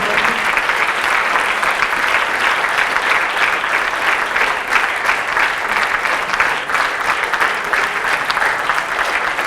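Sustained, dense applause from a large audience at a women-men equality forum in France, steady and loud throughout without any talk over it.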